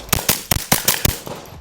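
Suppressed .22LR rifle fired through a Taquito suppressor: a quick string of about eight sharp, muffled cracks, fairly even in rhythm, running through a full magazine with no talking.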